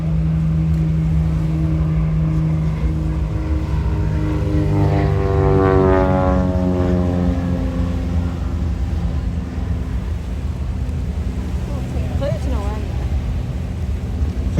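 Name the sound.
Cessna 172 light aircraft flying past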